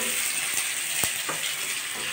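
Spice paste of dried red chilli, cumin, ginger, onion, garlic and garam masala frying in oil: a continuous close, loud sizzle with a few soft knocks from stirring.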